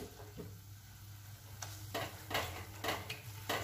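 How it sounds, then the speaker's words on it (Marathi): Masala sautés gently in oil in a pan over a low flame for dhaba-style cashew curry. A soft, quiet sizzle is broken by several sharp spatula scrapes and taps. "आणि मस्त आपण 5 मिनिटासाठी हा मसाला व्यवस्थित परतून घेऊया"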